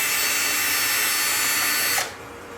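Power screwdriver backing out screws from the front lens retention ring of a Chauvet Q-Spot 260 LED moving head light, one loud close whirring run that cuts off abruptly near the end, with no talking.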